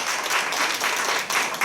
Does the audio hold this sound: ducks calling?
no